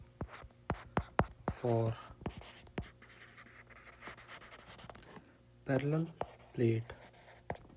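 A pen writing notes on a surface during a physics explanation of capacitors, quick scratchy strokes coming in bursts, close to the microphone, with someone speaking between and over the writing.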